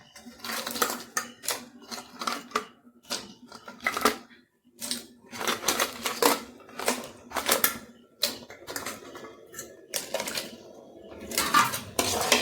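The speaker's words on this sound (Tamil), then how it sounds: "நல்லா கிளறி விட்டுருக்கேன்." A spoon scrapes and clanks against a metal pan while stirring crab pepper masala, in quick, uneven bursts, close by, with short pauses between strokes.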